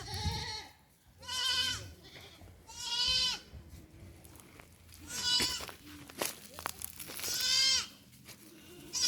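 A weaned young goat, Boer or F1 Boer cross, bleats loudly and repeatedly for its mother, four or five drawn-out cries spaced a second or two apart, close to the microphone with faint rustling between calls.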